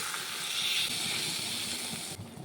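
Water goes into a pan of spiced potato and green banana curry, giving a steady, faint hissing rush that cuts off abruptly near the end, with no talking.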